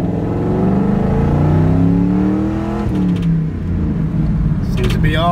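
A car engine revs up and down in a steady sustained run after new spark plugs were fitted, with no clear misfire or skip; a voice speaks over the engine noise near the end.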